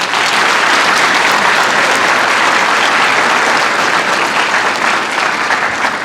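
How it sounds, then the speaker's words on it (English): A graduation audience applauds parents and guardians at a high school ceremony, a dense, loud, continuous wash of clapping from a large crowd that holds steady throughout. "please give your parents and guardians a heartfelt round of applause for supporting you throughout this journey"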